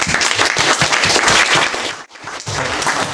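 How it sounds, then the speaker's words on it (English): Loud, close applause from a hackathon crowd for a sponsor, dense and energetic, briefly dropping out for a moment before resuming. "we'll give them a round of applause"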